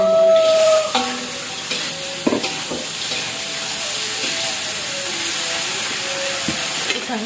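Water poured into a hot cooking pan at dawn in a village kitchen gives a loud, steady hiss and sizzle that runs throughout, broken by a few clinks and scrapes of stirring.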